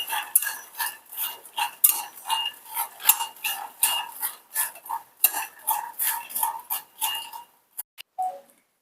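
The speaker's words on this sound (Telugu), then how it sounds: "చూడండి, ఇలా కలుపుతూ ఉండాలి, మాడిపోతాయి లేకపోతే కలపకపోతే." Lotus seeds (makhana) roast in a dry pan over a low flame, stirred with a ladle in quick, regular strokes that give a bright, rhythmic scraping and rattling close up, slowing to a few last scrapes at the end.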